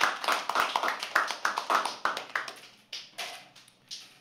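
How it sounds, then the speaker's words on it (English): Applause from an audience at a live poetry open mic, a quick run of claps that thins into a few scattered ones and fades, close and moderately loud. "I make people clap a lot."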